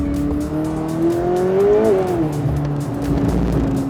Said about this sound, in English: You hear that wheel spin?